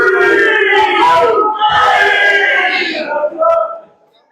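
A wrestling crowd at a tag team championship match roars and chants in loud, surging bursts of massed yelling, swelling twice before dropping away abruptly at the end.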